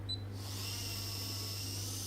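An implant drill bores an osteotomy into a dental model, giving a steady high-pitched whine after a short start, faint and continuous over a low electrical hum.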